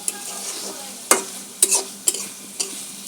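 Taro frying in a blackened wok, with a steady sizzle broken by several sharp scraping clicks from a stirring spatula, close and fairly loud.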